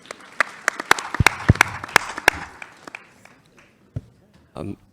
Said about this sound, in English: Round of applause for Sare, please.